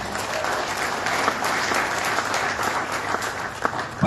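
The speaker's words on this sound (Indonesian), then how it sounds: "Boleh tepuk tangan." Crowd applause at a Democrat party fast-breaking gathering in Indonesia after news of a presidential election win, a dense, sustained roar of many hands clapping at even loudness, with a brief louder swell at the very end.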